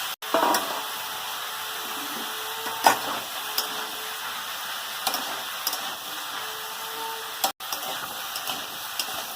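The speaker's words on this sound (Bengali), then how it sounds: "এরকম করে নেড়ে অল্প অল্প করে চাপা দিয়ে দিয়ে নেড়ে নেব বারবার করে।" Pumpkin and banana-flower ghonto frying in a pan, with a soft sizzle under repeated stirring, occasional utensil taps and scrapes, close and fairly quiet.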